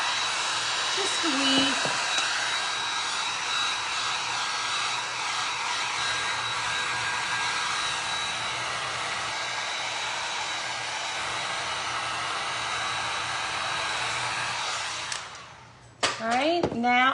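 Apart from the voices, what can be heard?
heat gun drying resin on glass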